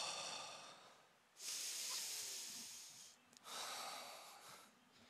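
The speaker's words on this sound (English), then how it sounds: "You know the heavy breathing?" Heavy breathing right after a set of thirty push-ups: two long, loud, hissing exhales close to the mic, separated by a brief pause, with quieter panting between them.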